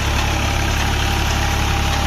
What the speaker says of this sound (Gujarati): આ ટ્રેક્ટર સાથે કલ્ટિવેટર જોડેલું છે